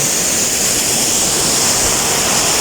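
Steady roar of the Gethsemane Hidden Falls waterfall in Bayugan City, Agusan del Sur, a loud, close, unbroken rush of falling water filling the whole clip with no voices.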